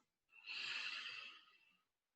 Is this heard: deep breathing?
yes